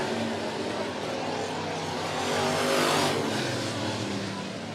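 Late model race cars roar around Monett Motor Speedway in a tight pack, a dense engine drone that swells as the field comes by and then fades slightly.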